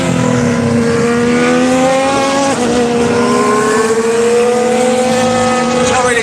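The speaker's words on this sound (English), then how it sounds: "Yeah, you can hear him revving up." Race car engine at the Barcelona circuit before a practice start, a loud sustained high-pitched drone with one brief dip and recovery, the pitch slowly climbing over steady track noise.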